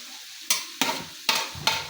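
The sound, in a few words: onions sautéing in a pan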